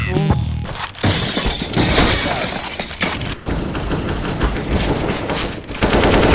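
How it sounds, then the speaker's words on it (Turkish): Molotov cocktail bursting into flames during a CS:GO match, a loud crackling, shattering burst over dense gunfire and game noise that runs continuously, with a brief laugh early on. "Molotov geldi buraya."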